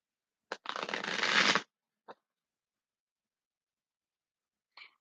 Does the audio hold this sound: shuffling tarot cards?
yes